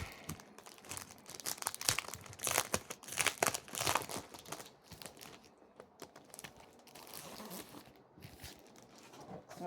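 Plastic wrapping crinkling and rustling as it is handled up close, irregular bursts of crackle that rise and fall.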